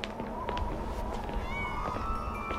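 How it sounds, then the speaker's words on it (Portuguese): Cats meow a few times in a witch school's cat room, short tonal cries rising over a steady busy background hum. "É a sala dos gatos."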